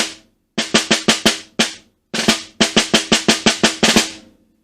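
Snare drum etude played solo, with crisp rapid strokes in tight bursts separated by short pauses and a drag worked in as a 32nd note, the final hits ringing out before silence.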